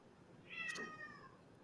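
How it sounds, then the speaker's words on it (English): A single cat's meow, one short rising-falling call, faint and fairly close against a quiet background, with no talk over it. "That's a big cat. Which cat is that?"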